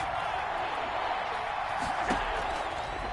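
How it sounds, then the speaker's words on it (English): A football stadium crowd roaring to urge on its defense, a steady wash of noise with a few sharp thumps, under the play-by-play commentator's voice. "this crowd urging on their defense. They're up and making noise."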